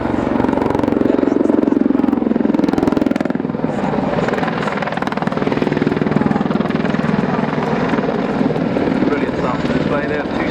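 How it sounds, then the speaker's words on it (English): An Apache helicopter flying a 270-degree wing-over during an air display at Waddington, its loud rotor throb and engine whine close overhead and shifting as it turns, with a commentator's voice over the noise. "270-degree wing over, showing the great manoeuvrability of this aircraft"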